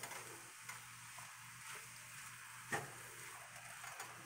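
Fried rice with soy sauce being stirred in a pan, quiet scraping strokes in an even rhythm over a steady low sizzle, with a small clack partway through.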